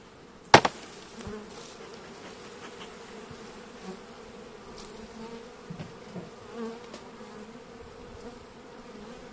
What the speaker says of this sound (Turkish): Kafkas arısına bakın.